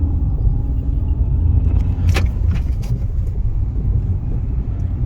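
Steady interior road rumble and tyre noise from a Fiat 500 1.2 driving on a rough rural road in North Kent, continuous and fairly loud with a few faint rattles.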